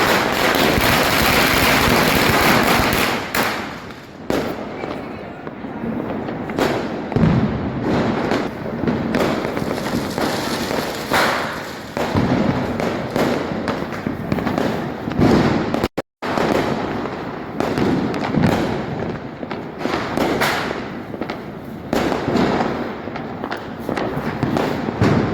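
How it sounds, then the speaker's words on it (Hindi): Diwali firecrackers and fireworks bursting continuously in a dense, loud barrage of cracks and thumps over a festive residential neighborhood with decorated houses, with a brief gap partway through. "और जो पटाखे हैं वो बहुत ज़्यादा चल रहे थे।"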